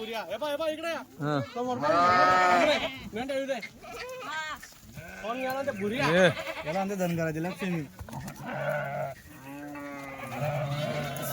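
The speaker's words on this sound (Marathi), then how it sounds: "शेळ्या या चालू गाडीच्या भुक्या शेळ्या आहे बघा मेंढ्या पण एकदम भुक्या" Hungry Kathiawadi goats and sheep crowded in a moving vehicle bleat loudly and repeatedly, long wavering calls overlapping one another while someone talks between and over them.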